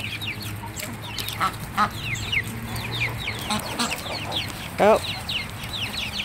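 Several chickens cluck and chatter nearby in short irregular bursts, with one louder squawk midway and a brief spoken exclamation.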